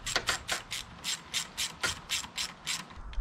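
Ratchet wrench clicking in quick repeated bursts while tightening a hose clamp on a blow-off valve hose of a 3S-GTE turbo engine, close and fairly quiet with no talking.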